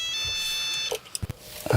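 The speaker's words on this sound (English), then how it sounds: "Phone's ringing." A phone rings indoors with a steady electronic trilling tone for just under a second, then cuts off, followed by a few soft knocks and handling bumps.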